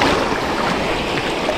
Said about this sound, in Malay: Kita bersama ombak pecah.